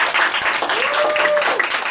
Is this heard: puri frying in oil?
no